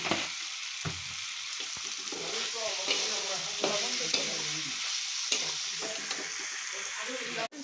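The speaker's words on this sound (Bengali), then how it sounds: "ভাজা ভাজা হচ্ছে এখন" Food fries in a pan with an even hissing sizzle, broken by scraping and clinking as a utensil stirs it, close and steady throughout, with no talking.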